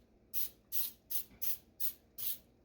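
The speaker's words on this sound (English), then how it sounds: "because it's my favorite, Baker's Joy, to spray inside" Baker's Joy baking spray hisses into a bread pan in six short, evenly spaced bursts, each a crisp close-up spritz separated by brief pauses.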